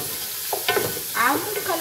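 Garlic and ginger sizzle in hot oil in a pan while a spoon stirs them, giving a steady close frying hiss broken by brief scraping stirs and bursts of crackle.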